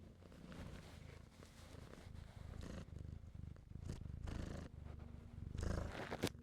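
A pet cat purring close by in a steady, continuous low rumble that swells and fades with each breath, with no talking over it.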